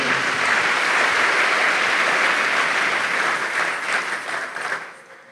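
A church congregation breaks into sustained applause, a dense wash of many hands clapping steadily before thinning out and fading near the end.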